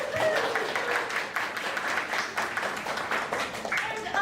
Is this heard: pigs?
no